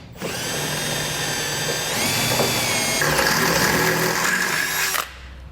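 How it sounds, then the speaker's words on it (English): Power drill turning a 1/2-inch bit through the base plate of a 2007 Jeep Wrangler, a loud, steady whine with shifting pitch as the bit bites into the metal, running about five seconds before stopping abruptly. "We're gonna use a 1/2-inch drill bit to drill it through it."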